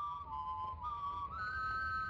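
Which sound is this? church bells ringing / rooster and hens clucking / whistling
whistling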